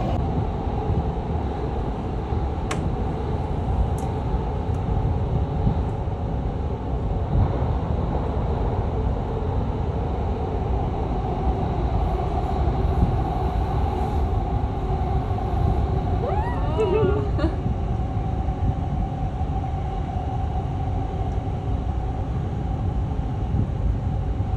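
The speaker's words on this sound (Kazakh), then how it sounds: "Метро да өте, бұл надземный метро" An elevated metro train in Doha carries passengers, a steady low rumble and hum heard from inside the car, continuous and even for the whole stretch, with a few faint tonal whines and clicks.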